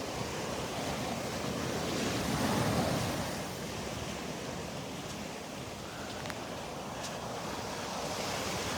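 Ocean waves roll and break steadily along the beach at Delnor-Wiggins on an overcast morning, a continuous broad wash of surf with light wind noise across the microphone and no voices.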